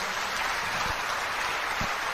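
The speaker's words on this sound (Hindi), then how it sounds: "आप जोरदार तालियों से इनका स्वागत कर सकते हैं।" An audience at an Amway event applauds to welcome a speaker to the microphone: steady, even clapping from a crowd that spreads into a continuous hiss-like wash, with no talk over it.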